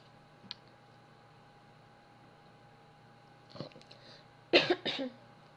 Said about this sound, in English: Like, I keep coughing.